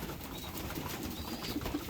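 Racing pigeons coo softly inside a crowded loft, low murmuring calls repeating near the end over a rustling, shuffling background, with no one talking.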